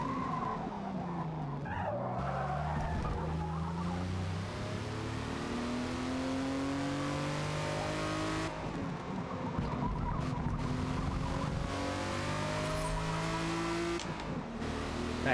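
A race car in a racing video game revving through gear changes, with rising and falling engine tones and long tire squeals from handbrake skids, loud and continuous with no talking.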